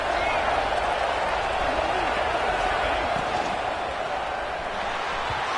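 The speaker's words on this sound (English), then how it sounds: "here comes the noise. This crowd is trying to inspire this defense to make a big red zone stop" A college football stadium crowd at a Virginia versus Wake Forest game keeps up a steady loud roar with scattered claps and thumps in it, holding the noise throughout.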